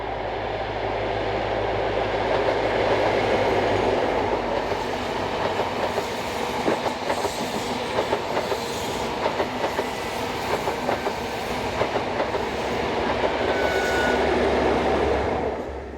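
Class 43 HST power cars 43155 and 053 pass on an express service from Paddington to Plymouth, a loud continuous roar with engine rumble and rhythmic wheel clatter across the whole stretch.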